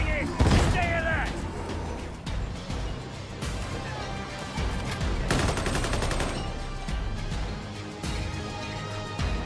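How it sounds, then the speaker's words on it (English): Shotgun blasts in Warhammer Vermintide 2 boom out amid a busy game battle, sharp broadband shots scattered across the stretch over dense background noise, with in-game character voices talking. "Shotgun ready! Stand clear!"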